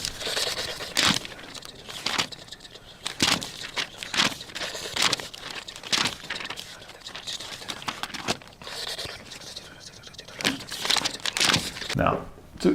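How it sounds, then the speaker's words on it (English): Paper crinkles and tears sharply in repeated bursts as pages are handled and ripped from a book, close and crisp, with a voice talking over parts of it. "he just ripped a page"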